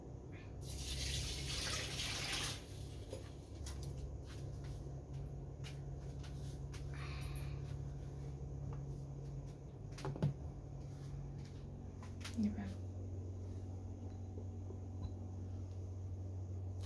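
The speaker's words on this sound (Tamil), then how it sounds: "இப்போ தண்ணி விட போகிறேன்." Water pours steadily into a biryani pot in a home kitchen, a continuous gushing stream that is strongest at the start, followed by a few clinks and knocks.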